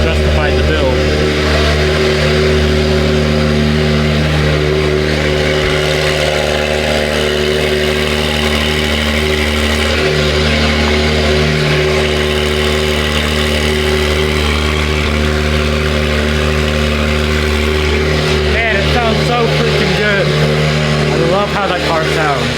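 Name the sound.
Mitsubishi Evo 8 car engine revving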